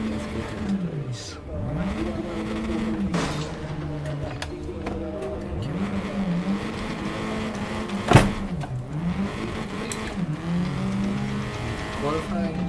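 Race car engines in the Raceroom racing game scream through repeated rising and falling rev sweeps as the car shifts and brakes, steady and loud, with a sharp knock partway through and a voice talking over the engine.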